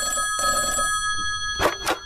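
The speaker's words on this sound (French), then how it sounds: "Et allez, encore ce maudit téléphone," A telephone bell rings in two short, close bursts indoors, with a faint steady musical hum underneath.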